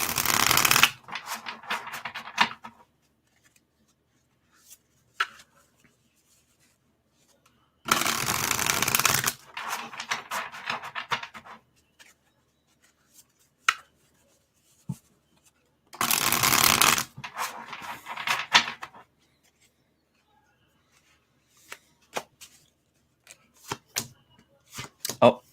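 Tarot cards being shuffled during a live reading come in three loud, dense riffling bursts a few seconds long, separated by quiet stretches with occasional taps and soft handling noises, close up.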